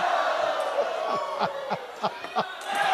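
A large crowd roars continuously in a big echoing arena at the 2017 T2 APAC Grand Finals, with sharp thuds and claps popping through the sustained cheer.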